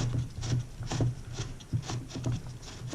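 The adjustment knobs on a BMW E46 bi-xenon headlight are turned by hand, producing a steady series of soft plastic rubbing and scraping strokes close up, repeating in a loose rhythm.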